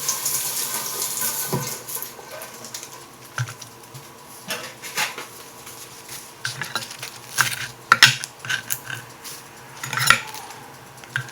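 Green onions rinsed under a running kitchen tap, with a steady patter of water, scattered clinks of dishes and cutlery, and a few sharper knocks near the sink.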